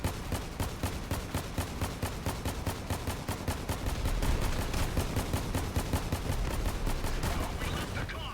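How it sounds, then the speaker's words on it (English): Vehicle-mounted weapons in the combat game Crossout fire in a relentless, loud stream of rapid shots, bursts overlapping into a dense fusillade that runs without pause for about eight seconds. "Oh, we just nailed him with every shot."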